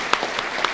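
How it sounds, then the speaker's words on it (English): Conference audience applauding the winners at a best-practices awards event, a brief burst of dense clapping from a crowd in a hall. "give one final round of applause for all of the Eureka winners, bronze, silver,"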